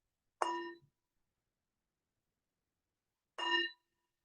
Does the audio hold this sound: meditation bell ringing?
yes